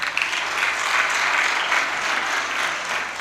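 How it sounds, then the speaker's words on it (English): An audience at a handover of community radio studios in Kanyamazane breaks into sustained applause, a dense, even crowd clapping for a few seconds at moderate loudness with no talking. "It's important that we clap for ourselves."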